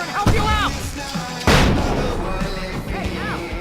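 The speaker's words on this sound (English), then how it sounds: "I can set off more of the fireworks from here and help you out!" Fireworks going off in the video game Alan Wake, two heavy booming bursts about a second apart, the second the loudest, with game sound effects and voices around them.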